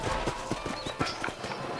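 Horses in the Red Dead Redemption video game clip-clop as riders dismount, with a few sharp hoof strikes close by over a soft background and a faint whinny.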